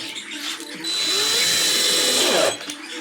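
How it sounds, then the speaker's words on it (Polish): A power drill drives screws into the wooden frame of a handmade rabbit cage, a steady whirring burst of about a second and a half that follows brief handling noises and ends abruptly. "Normalnie wkrętami będziemy łapać do tutaj do kantów."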